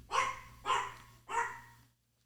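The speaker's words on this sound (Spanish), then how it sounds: "Eso que escuchaste es mi perrito que quiere entrar aquí al estudio cuando estoy grabando" Three sharp barks from a small dog just outside a home recording studio, evenly spaced about half a second apart, fairly close and alone, with a steady low hum underneath.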